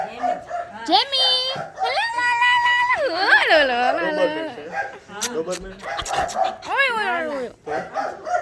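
A female dog yips and whines in high, wavering cries, several close calls mixed with people talking nearby.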